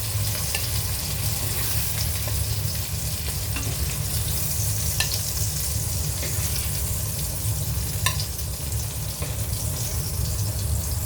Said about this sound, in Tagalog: ngayon ay magprito na tayo ng ating sahog para sa ating fried rice. Lalagyan ko ng karne.